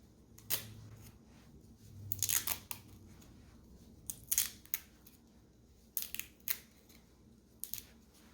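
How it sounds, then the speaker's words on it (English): Small strips of duct tape are snipped and torn from a roll, faint crisp cuts and rips arriving in short, irregular bursts against a quiet room. "I'm just going to take just the tiniest little bit of this duct tape, make these little strips out of it."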